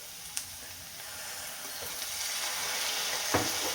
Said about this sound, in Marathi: तर आता आपण ह्याच्यात सगळ्यात अगोदर टाकूया सॉस. तर हा आहे सोया सॉस.